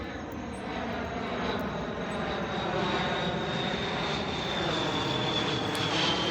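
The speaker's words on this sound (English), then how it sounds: "of course there's a plane coming, because what would a Tracy video be without a plane flying over?" A fixed-wing airplane passes overhead, its engine drone a steady, fairly loud hum that swells slightly and holds throughout, with no voices.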